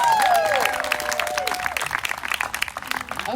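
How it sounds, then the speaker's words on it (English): An audience applauds at a Juneteenth celebration, clapping that rises as a sung note fades at the start and continues at moderate volume for a few seconds. "Give them another round of applause."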